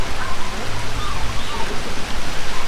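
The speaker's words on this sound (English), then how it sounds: "When Mount Orion disappears, you've got a lot of rain coming" Heavy rain pours steadily onto a kubo hut during house construction in the Philippines, a dense, loud, continuous wash of noise.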